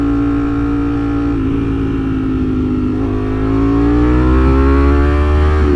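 A Ducati motorcycle in sport mode holds a steady, loud, harmonically rich engine drone while cruising around Houston, its pitch dipping slightly and then rising as the throttle opens, heard close up with wind rumble.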